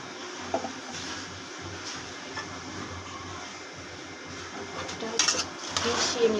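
Spices such as coriander powder mixed with oil in a cooking pot, a steady low scraping and stirring rasp with a few clinks of the utensil against the pot near the end, heard close while a voice speaks over it.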